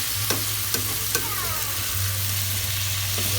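Sweet potato is stirred into Filipino adobo frying in oil in a pan, with steady close sizzling under a few sharp scrapes of a utensil against the pan.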